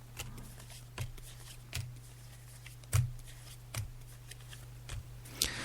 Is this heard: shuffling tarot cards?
yes